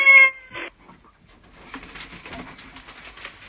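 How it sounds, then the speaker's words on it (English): A cat meows loudly and briefly at the start of a radio phone-in call, heard over a phone line, followed by faint crackly line noise and murmuring. "Is that a cat down a well?"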